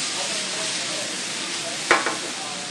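Brussels sprouts and pancetta with vinegar frying in a pan, giving a loud steady sizzle throughout, with a sharp clatter of stirring near the end.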